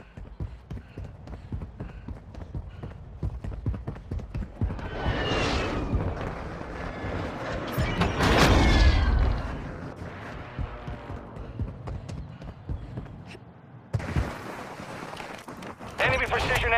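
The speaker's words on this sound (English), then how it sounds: "Friendly airstrike in the AO." Airstrike explosions in the mobile shooter Warzone Mobile rumble as a long, loud swelling blast peaking midway, with a second burst near the end, over constant battlefield noise and a game announcer's voice.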